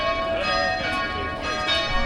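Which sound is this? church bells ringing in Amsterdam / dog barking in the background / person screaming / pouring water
church bells ringing in Amsterdam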